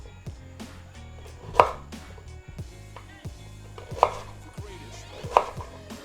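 A kitchen knife chops celeriac into strips and cubes on a cutting board, with three loud sharp knocks spaced apart among softer slicing taps, close and without talk.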